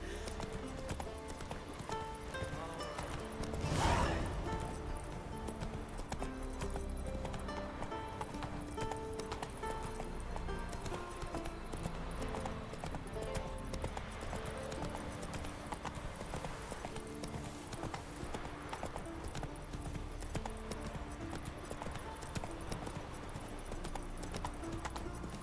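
Horse hooves clip-clop steadily at a run in The Witcher 3, a continuous rhythmic pattern with a brief whinny-like burst early on, heard alone without talk.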